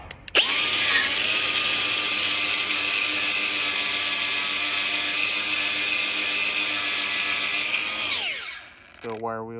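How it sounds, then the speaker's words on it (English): Power tool with a wire wheel grinding stickers off a 14ft Big Tex trailer outdoors, a steady loud whine close by for about eight seconds, then winding down. "Out here grinding off stickers."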